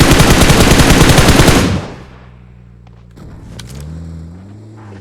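Rapid automatic gunfire from the Ghille Wale video game, loud and dense bursts for under two seconds before cutting off, leaving quieter game ambience with tonal hums.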